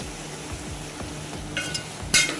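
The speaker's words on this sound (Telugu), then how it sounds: "బాగా కలుపుకోవాలి." Brinjal curry being stirred in a pan, a low steady sizzle under rhythmic scraping strokes of the spoon, with a few sharper clinks near the end.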